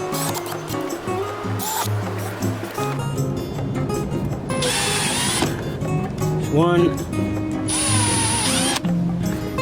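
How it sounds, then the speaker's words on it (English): A power drill whines in several short bursts, spinning up and cutting holes with a 6mm bit while installing Subaru STI rear spats, with clicks and handling noise between runs and a brief spoken word. "we're going to be doing this drilling in 2 stages"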